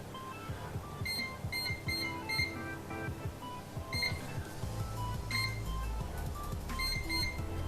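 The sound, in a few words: oven timer being set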